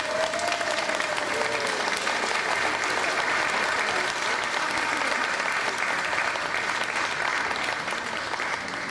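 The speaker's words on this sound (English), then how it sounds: "Let's give them a round of applause." A sustained round of applause from the crowd at a children's recognition event in Harrisburg, steady dense clapping throughout with a faint whistle-like tone near the start.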